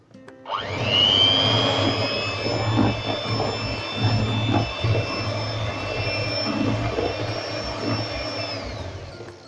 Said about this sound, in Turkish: Bir şanti ve bir bardak süt ekliyoruz. Çırpmaya başlayalım.